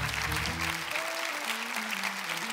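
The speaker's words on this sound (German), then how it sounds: "Kompliment und einen Applaus bitte" On the TV dance contest Dancing Stars, the studio audience breaks into loud, continuous applause, a thick wash of claps heard together with a sustained tone from a voice or music.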